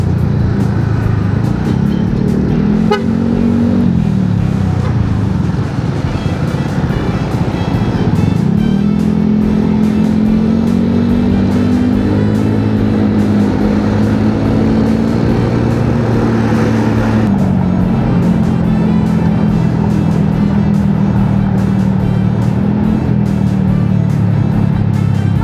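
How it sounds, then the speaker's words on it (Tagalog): Continuous engine drone of motorcycle riding through traffic on the MacArthur main highway in Pampanga, loud and close, with rising and falling revs; no clear horns stand out. "Medyo traffic na dito."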